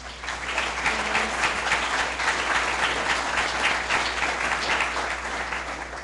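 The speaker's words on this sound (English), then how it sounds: "a round of applause to them and their dedication" Audience applause fills a school board meeting room, a steady, dense wash of clapping from many hands that holds at an even level for several seconds with no talking over it.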